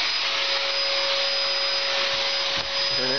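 A wall-climbing vacuum paddle's suction motor runs with a steady, loud whine and hiss, holding constant, then briefly dips near the end.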